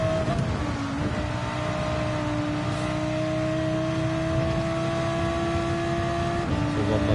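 A naturally aspirated car engine in a racing video game drones steadily at a sustained high pitch, with a slight shift near the start and again near the end, loud and continuous with no talking.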